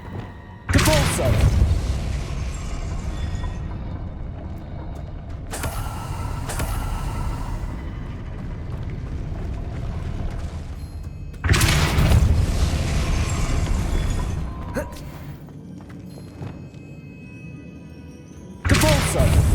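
Depulso spells in Hogwarts Legacy shove objects away, producing four heavy booming impacts spaced several seconds apart, each trailing into a long, loud, rumbling tail.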